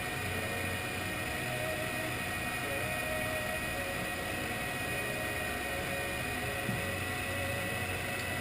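The electric motor of a Kyosho RB6 RC buggy spools up at light throttle during slipper clutch break-in, a steady, even whine and hiss that holds unchanged throughout, close and alone.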